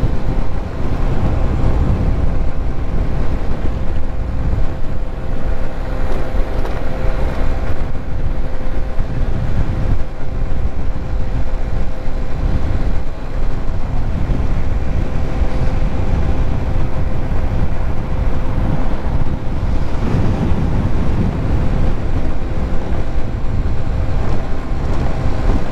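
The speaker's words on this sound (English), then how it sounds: "A lot of wind coming at me." Heavy wind buffets the microphone while riding a GY6 50cc Boom scooter on an evening ride, a constant loud low rumble and roar filling the whole stretch with no speech.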